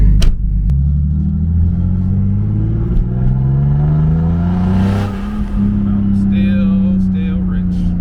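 A turbocharged BMW E36 driving through a residential neighborhood, loud engine rumble close by with rising and falling revs as it accelerates and shifts, a steady whir underneath and brief clicks and squeaks near the end.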